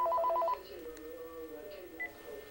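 A home telephone rings with a short burst of rapid electronic trill tones at the start, followed by quieter room sound and a faint voice.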